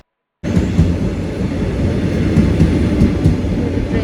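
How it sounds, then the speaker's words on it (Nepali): A train pulls into a station in Israel with a loud, steady rumble of wheels on rails and faint clacking. No one speaks. "मेरो ट्रेन चाहिँ आउनु लागेको छ"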